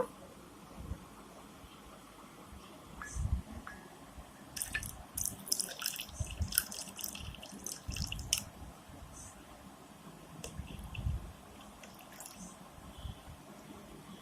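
Water is poured and squished into a bowl of mashed tamarind for Bengali fuchka tok jol, soft wet drips and squelches coming in scattered bursts at close range with quiet pauses between.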